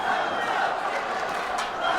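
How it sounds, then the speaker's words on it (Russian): Crowd of boxing fans shouting and roaring at a bout, a dense, continuous wash of many voices, loud and steady throughout with no gaps. "Слышим, болельщики кричат."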